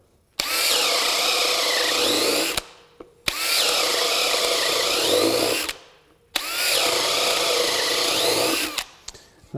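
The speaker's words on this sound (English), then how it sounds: "I'm gonna drill 3 more down here, same drill." A DeWalt 20V DCD999 cordless drill on a 5.0 Ah battery bores into wood in three separate bursts of about two to three seconds each, its loud whining motor rising and slowing under load, with short pauses between holes.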